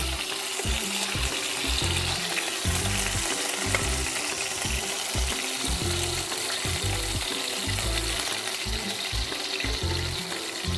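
Pieces of boal fish shallow-frying lightly in hot oil, a steady close sizzle and crackle running throughout with soft occasional stirring, no voices.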